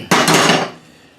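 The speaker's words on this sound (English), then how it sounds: "Alright, we're going to stir that around." A sharp clank of a utensil against a pot of beef bourguignon with meat and salt pork, followed by a short metallic scraping stir that fades out within about half a second.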